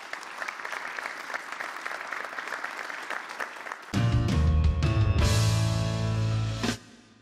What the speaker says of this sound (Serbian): Jedan aplauz za Koju, molim vas.